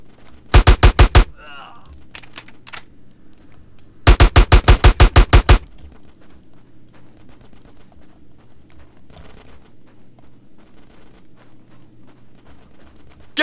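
Automatic gunfire from the video game Grand Theft Auto San Andreas, two loud rapid bursts early on, then quieter scattered shots and scuffling under a low background hum.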